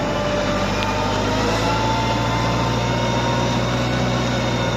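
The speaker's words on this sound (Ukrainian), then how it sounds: "у нас трактор тільки півроку, а сажалочку взагалі вчора тільки перший раз запустили" A small tractor runs steadily in a home garden plot while pulling a newly used potato planter, its engine giving a continuous loud drone with no gaps throughout.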